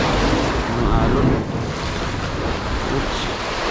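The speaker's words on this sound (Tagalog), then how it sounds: "Ang alon." Sea waves surge and wash against rocks on a rocky fishing shore, a loud continuous roar mixed with heavy wind buffeting the microphone.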